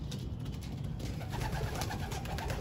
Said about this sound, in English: Alright, so I got the two birds back.